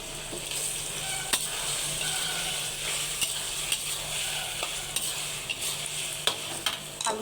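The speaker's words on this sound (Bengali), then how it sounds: "এখন দিয়ে দেবো মাছ আর আলু একসঙ্গে দিয়ে কষাই নেবো আবার সুন্দর করে" Fish and potatoes frying with spices in a pan make a steady close sizzle, with repeated scrapes and taps from the stirring spoon throughout.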